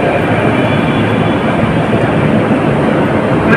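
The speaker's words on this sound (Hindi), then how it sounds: "अभी जा रही मेरी मेट्रो।" Mumbai metro train pulling away from the platform at Saki Naka, a steady loud broadband rumble and rail roar that holds constant throughout with no talking.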